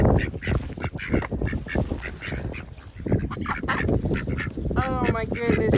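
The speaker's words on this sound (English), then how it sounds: "Hey, there you go, duck number 2." Ducks at a windy lake quacking and honking while being fed, a busy cluster of harsh calls close by, repeated in quick bursts with a rapid run of squawks near the end.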